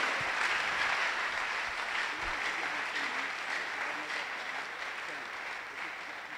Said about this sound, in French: nous voulons l'encourager par nos acclamations